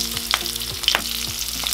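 Onion with ginger, green chilli, garlic, bay leaf, clove and cinnamon sizzles in a pan for tomato rice, a close, steady frying hiss broken by a few crackling pops and stirring scrapes.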